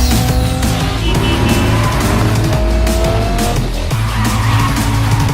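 A sports car with a 4-liter six-cylinder engine roars loudly and steadily in Cyberpunk 2077, its engine revving over screeching tires and racing-game noise with no pauses.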